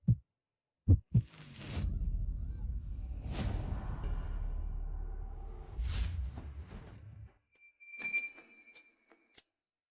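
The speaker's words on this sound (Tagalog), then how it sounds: "At ang bilis ng tibok ng puso ko?" A fast heartbeat sound effect pounds in soft low thumps, with a few whooshes and rumbling swells between the beats and a brief higher-pitched burst near the end.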